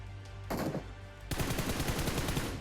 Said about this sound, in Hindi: ये भाई फुल फायर कर रहा था हम पे